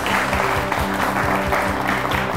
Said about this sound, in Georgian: აპლოდისმენტები თბილისის 123-ს.